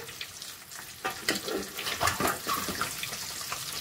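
Eggs frying in oil for egg curry, an uneven crackling sizzle with louder bursts of spatter partway through, close and with no talking.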